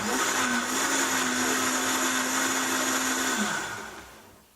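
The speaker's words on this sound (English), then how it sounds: "I like to blend them, the berries in my blender just a little bit, and make a nice little puree." A blender pureeing strawberries whirs steadily at high speed for a few seconds, then winds down and trails off near the end.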